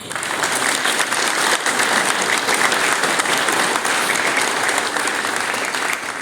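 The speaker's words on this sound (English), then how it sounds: "Please give her a round of applause." A crowd at a county judge's swearing-in ceremony gives a commissioner a round of applause, with thick, sustained clapping that stays loud and even throughout.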